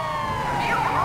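An ambulance siren in GTA 5 wails steadily and loudly for a brief moment, its pitch rising and falling with a slight rise toward the end, with no talking over it.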